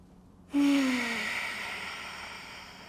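During a Hatha yoga session, a single deep, audible exhale begins abruptly as a sighing breath, loud at first and then tapering off gradually, with no one speaking.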